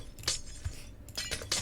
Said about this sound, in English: and breaking these 3 glass.